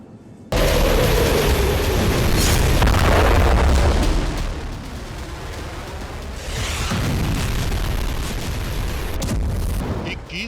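Heavy explosions from a B-2 bomber strike on Iranian nuclear sites, beginning with a sudden loud boom that rolls into a long rumbling blast, followed by a second sustained wave of deep detonation noise.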